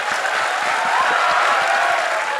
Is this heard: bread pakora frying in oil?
no